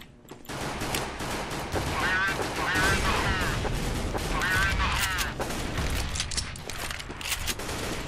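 Sawed-off shotgun blasts in the game CS:GO, dense repeated gunfire from close range running through the whole stretch, mixed with other weapon shots and game effects, with a voice talking over it.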